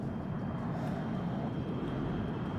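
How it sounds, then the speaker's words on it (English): Plane flying over in the real-time strategy video game WARNO, a steady droning jet roar that holds evenly and fairly loud throughout. "Got another plane."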